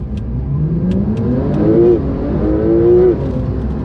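Porsche 911 992 Turbo S accelerating hard in first gear, a loud close engine rising steadily in pitch with a brief shift in the middle, heard from inside the car.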